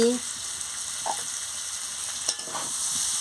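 Potatoes for aloo dum frying in spice masala while being stirred, a steady close hiss with a few soft scraping knocks of the spoon, no voices.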